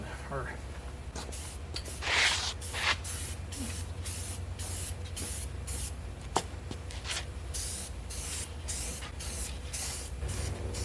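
Spray paint hissing from an aerosol can onto a truck cap on a 2021 Chevy 2500, in repeated short bursts with brief pauses, fairly close and steady.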